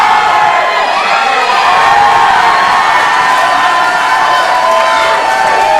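A packed wrestling crowd roars and cheers wildly in a loud, unbroken wall of shouting and whooping that holds at full intensity throughout.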